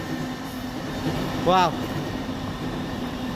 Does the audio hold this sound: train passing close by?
yes